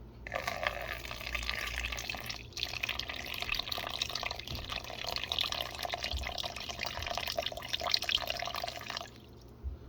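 Water poured from a water bottle into a tarantula enclosure, a steady trickling and splashing stream lasting several seconds with a brief break, close and moderately quiet.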